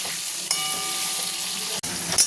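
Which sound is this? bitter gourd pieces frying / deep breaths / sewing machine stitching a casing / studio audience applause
bitter gourd pieces frying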